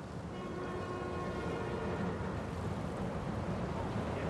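Continuous low rumble and rattle of a train rolling past in the video game Marvel's Spider-Man 2, steady and fairly loud, with a faint tonal whine over it.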